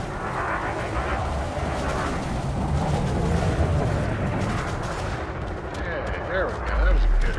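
Ship weapons in Elite Dangerous fire in a sustained, rumbling barrage of rapid booming shots, loud and close, with a heavy low thump surging near the end.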